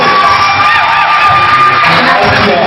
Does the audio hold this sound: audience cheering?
yes